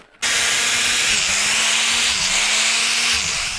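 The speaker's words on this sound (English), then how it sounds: "So I'm out here in the dark, getting some logs drilled." Power drill boring holes into logs outdoors at night for shiitake mushroom inoculation, starting abruptly and then running as a loud, continuous whine with grinding wood noise and slight dips in pitch as the bit bites.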